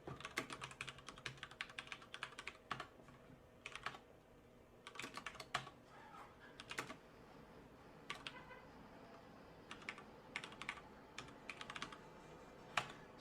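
Someone types code on a computer keyboard in irregular bursts of quick key clicks separated by short pauses, close and clear in a quiet room.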